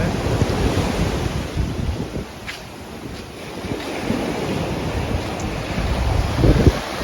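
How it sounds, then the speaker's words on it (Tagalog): Strong ocean waves surge and crash continuously at a beach in Tiwi, Albay, mixed with heavy wind buffeting the microphone, loud and close with swells rising near the end. "malakas ang alon"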